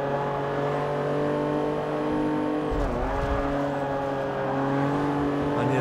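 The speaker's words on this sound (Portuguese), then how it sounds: "Que som lindo! Motor do Viper." A Viper race car engine in Forza Motorsport 6 holds a loud, steady high-revving drone, briefly dipping and roughening midway before climbing back to a constant whine.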